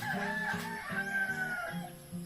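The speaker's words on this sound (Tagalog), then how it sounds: "Habulan ng manok forward sa probinsya." Chickens being chased around a rural yard in the province give loud, close clucks and crowing calls, repeated throughout with no talk.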